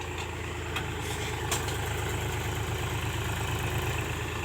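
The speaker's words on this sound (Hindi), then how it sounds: "इसका जो है ब्रेक ऑयल में चला गया पानी, इसलिए कर्रा रहा है।" Powertrac Euro 50 tractor running with water in its brake oil, a steady low engine drone with a continuous grinding rumble, constant and close, no voices.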